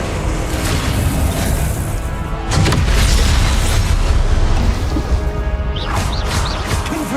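Confringo spell explosions in the Hogwarts Legacy video game, heavy booming crashes over continuous combat rumble, with a strong blast around the middle and another sharp burst near the end.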